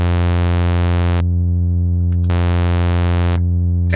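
Steady synthesizer oscillator tone with one oscillator routed around the filter, a loud sustained buzzy drone whose bright upper layer cuts in and out in blocks while the low fundamental holds unbroken.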